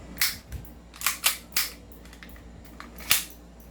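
A Trex 5.1 Hi-Capa airsoft pistol fires about six sharp, close snapping shots at irregular intervals, with no talk between them.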